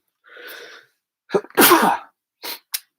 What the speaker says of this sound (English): Quick sneeze.